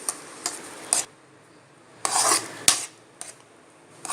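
A spoon scrapes and clinks against a pan while ravva kesari with dry fruits and cardamom powder is stirred, several separate sharp strokes spaced by quiet pauses, close up and with no talking.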